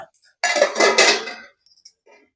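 Potatoes stirred in oil in a pan for tondli bhaji, a spoon scraping and clinking against the metal in a loud one-second burst, then faint scattered clinks.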